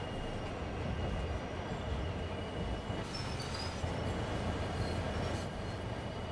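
A freight train slows in the video game Train Sim World 3 on Cajon Pass, a steady low rumble of rolling wagons with faint wheel squeals and metallic clicks, no voices.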